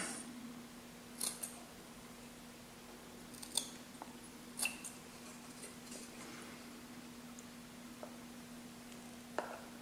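Scissors snip cardboard whiskers on a homemade cat-shaped car box, a handful of faint, sharp, separate clicks spaced unevenly over a quiet background hum.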